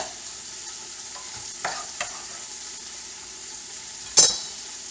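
Venison and chopped onion brown in a stew pot, a soft, even frying hiss running the whole time, broken by a few stirring knocks and a sharp utensil clink near the end.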